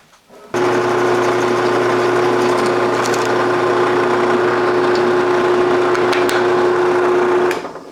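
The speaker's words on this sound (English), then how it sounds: "And to drill the hole for the pencil" A drill press bores a 9/32-inch hole in wood for a pencil, its motor droning at a steady, loud whine for several seconds with no talking.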